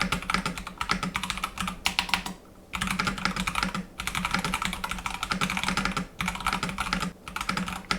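Brisk, steady typing on a Logitech G513 Carbon hot-swap mechanical gaming keyboard with brown switches, dense clacking keystrokes in continuous bursts broken by a few short pauses, close and alone with no talk.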